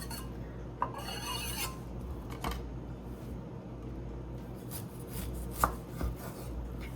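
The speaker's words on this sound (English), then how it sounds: "Now let's cut this lime." A kitchen knife cuts through a fresh lime on a board, giving a few sharp chopping knocks and a short scraping stretch over a quiet room hum, close by with no talk.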